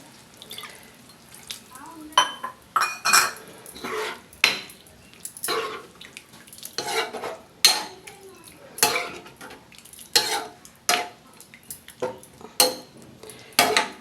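Tamarind-water curry with vankaya is stirred in a pot with a spoon: repeated metallic clinks and scrapes of spoon on pot, clear and close, in irregular bursts with faint background noise.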